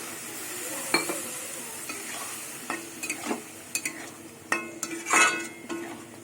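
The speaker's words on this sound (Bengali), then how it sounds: "ভাজা আলু দিয়ে কিছুক্ষণ আবার কষিয়ে নেবো" Fried potatoes with spices being sautéed in an oiled pan for a fish and pointed gourd curry, with soft scraping stirs and light clinks of a spoon against the pan over a faint sizzle, no voices.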